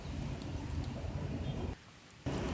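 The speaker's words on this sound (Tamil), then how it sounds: "2020 பெஞ்ச முதல் மழையை பார்த்து நாங்கள் ரசித்தோம்" Steady rain falls in Chennai during the first shower of 2020, a dense, even hiss close by that drops off briefly near the end before returning at full strength.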